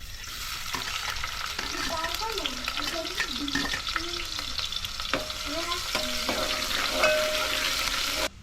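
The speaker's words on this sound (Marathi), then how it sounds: "सगळ्यात पहिला तेल घालून घेऊया मग नंतर कांदू टाकायचा" Onion fries in hot oil in a pan for a crab curry, with a steady sizzle and crackle under intermittent stirring scrapes, close and fairly loud, and a voice talks briefly.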